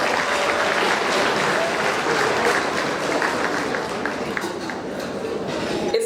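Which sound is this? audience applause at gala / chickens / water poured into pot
audience applause at gala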